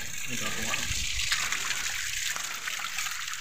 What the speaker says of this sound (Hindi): ये देखो किस बीच से निकला है पानी